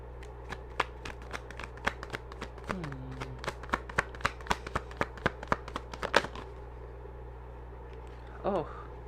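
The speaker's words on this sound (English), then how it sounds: "One more shuffle here." A rapid series of crisp card riffles and snaps, loud and close, then a brief pause and a soft voice.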